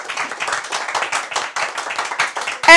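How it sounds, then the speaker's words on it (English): Brief burst of hand clapping from an audience at a Caribbean school debate competition semifinal, a short lively round of applause with a sharp noise at the very end. "A round of applause for both of our teams."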